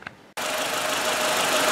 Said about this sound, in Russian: после замены заводим двигатель, слушаем, как работает